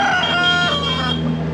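Chickens at a poultry market near Magadi, Bengaluru, crow and cluck loudly and close, with overlapping calls filling a short noisy stretch.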